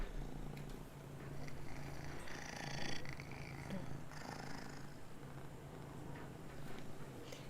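A male pet cat purring close by: a low, steady rumbling purr that runs continuously and quietly, with slight swells in loudness and no talk over it.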